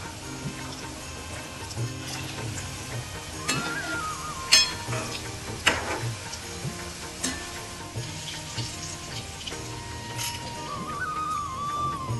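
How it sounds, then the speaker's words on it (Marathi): Steady oil sizzle and crackle from modaks frying in a pan, with occasional sharp pops and light clinks, no voices. "ते तळण्यास घ्यावेत"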